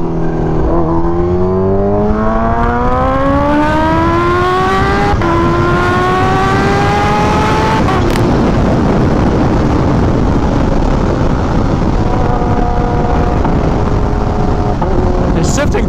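Kawasaki Ninja H2 motorcycle accelerating hard with manual gear shifts, engine pitch climbing in steep sweeps and dropping at each shift, loud and close throughout, with wind noise and a voice talking over it.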